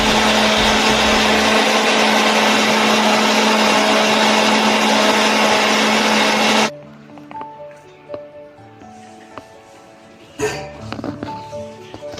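A small mixer grinder grinds coconut with a loud, steady whirring roar for several seconds, then cuts off abruptly, leaving quiet room sounds and a few faint knocks.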